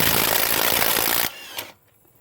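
A Dayplus cordless electric impact wrench hammers loud and close in a dense rattling burst for just over a second, then cuts off, leaving a brief mechanical wind-down.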